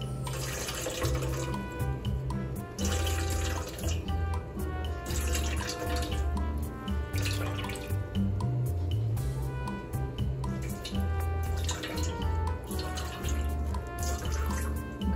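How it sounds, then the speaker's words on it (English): Water squeezed through cloth from acorn meal pours and splashes steadily for a long stretch, a continuous close trickling and gushing with no talk. "I'm going to squeeze all the water through there."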